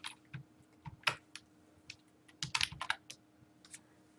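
Typing on a computer keyboard, heard as irregular clusters of quiet, close key clicks with short pauses between bursts, over a faint steady hum.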